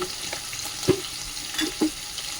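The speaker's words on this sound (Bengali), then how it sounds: "পনিরটাকে ভালো করে উল্টি পাল্টিয়ে ভেজে নেবো" Paneer frying in a pan with a soft continuous sizzle and a few light scrapes and taps as the pieces are turned, no one speaking.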